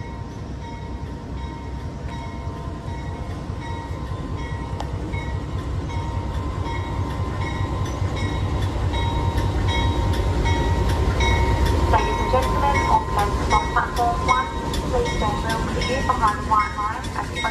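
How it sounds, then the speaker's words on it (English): The Overland passenger train pulls away from a station platform for Melbourne, its loud rumble and rail noise building steadily. Wheels click and squeal toward the end, with a steady hum throughout. "as the Overland Melbourne departs"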